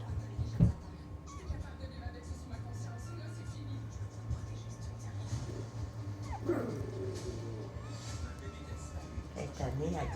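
A newborn puppy in a litter of eight gives short whimpers and soft growling yips among steady low mechanical hum, with one sharper yelp near the start and faint whines later, close and moderately quiet.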